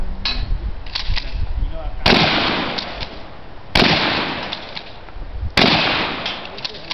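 Three loud, sharp shotgun blasts at roughly two-second intervals, each followed by a decaying outdoor echo, with low background noise between shots.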